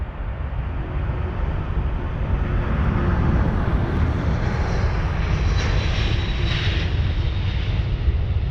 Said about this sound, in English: This Delta A330-900. Off it goes right into the sky.